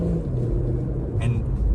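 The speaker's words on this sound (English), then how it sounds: "And you can also hear the engine" Infiniti Q50 six-cylinder engine while driving, a steady low rumbling drone heard from inside the cabin, continuous and fairly loud with a brief faint higher noise midway.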